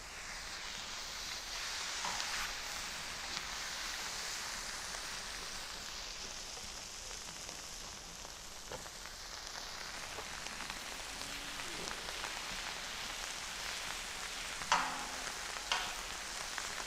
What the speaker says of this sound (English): let's get these steaks on and get them cooking